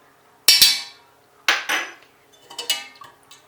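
A spoon repeatedly scraping and clinking against a bowl while yogurt starter is mashed and stirred smooth, coming in three separate bursts of metallic clatter with short quiet gaps between them.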